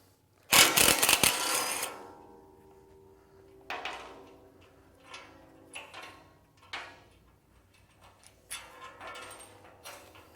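Socket wrench with a 3/4 deep socket ratcheting bolts loose on the end crates of a car lift, an initial loud burst of clicks followed by several shorter ratcheting bursts, close and alone.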